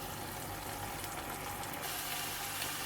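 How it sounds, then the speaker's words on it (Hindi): Thick masala gravy for kebab karahi sizzles steadily as it roasts and is stirred in a pan, a faint, even frying hiss that continues without talk. "तो इसको भून लेते हैं।"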